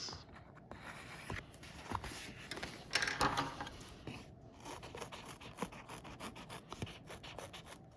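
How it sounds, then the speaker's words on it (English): Scissors snip through sticky-backed craft foam in an elementary classroom, a series of close, quiet crisp cuts and rubbing scrapes repeating irregularly with no talk. "Cut this with some other scissors."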